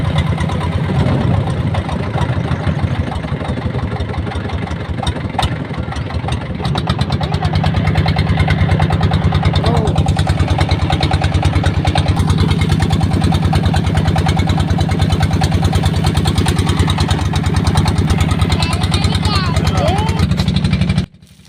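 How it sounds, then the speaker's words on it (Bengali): A trawler boat's engine drones steadily through a river crossing, a loud continuous low throbbing that settles into an even idle-like rumble, with people talking faintly over it. "ট্রলারটা পার হতে 10 মিনিটের মতো সময় লাগবে।"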